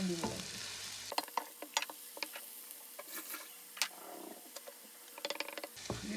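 Rice browns in a pan for risotto, giving soft sizzling with scattered scraping and stirring clicks that come and go throughout, fairly quiet and close, with no talking.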